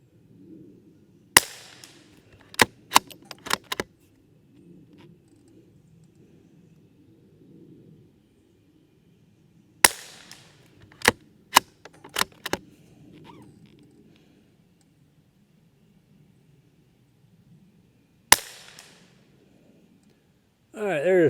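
A Savage B22 Thumbhole Timberlite rimfire rifle fires a five-shot group outdoors: sharp, sparse cracks in small clusters separated by quiet gaps, with faint background hum between shots.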